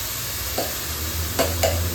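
Hot oil sizzles steadily in a pan while tempering cumin, onion and tomato, with a few soft scrapes of stirring and no talking.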